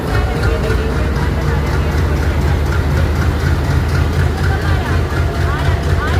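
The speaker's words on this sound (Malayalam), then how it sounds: "ഇവിടുന്ന് ട്രെയിന് വരുന്നത്." A train rumbles steadily at a station in Chennai, a loud, continuous low roar and clatter that fills the scene with no clear break.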